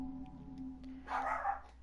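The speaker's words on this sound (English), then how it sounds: "Oh, here goes the dog again." A dog in the video game The Last of Us Remastered barks at a distance with a short muffled burst over a steady low game drone, with no talking.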